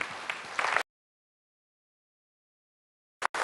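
A crowd at an Indian public forum applauds External Affairs Minister Dr. S. Jaishankar in a dense wash of clapping that breaks off abruptly. Near the end, a brief flicker of the applause returns after a gap of silence.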